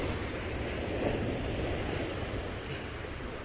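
Sea waves breaking on a beach under light rain, a continuous loud roar of surf and wash with wind noise buffeting the microphone.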